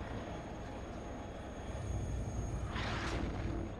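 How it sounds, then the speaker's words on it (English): Rotor-driven helicopters in the WARNO wargame, a steady broadband drone of engines and blades that swells louder in the second half, with a brief rushing burst near the end. "trying to take out those choppers"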